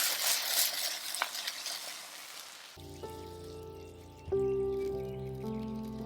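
Eggplant and shrimp stir-fried in a wok with minced garlic, a steady close sizzle and stirring scrape for a few seconds, then cut away to soft music with a faint background hum.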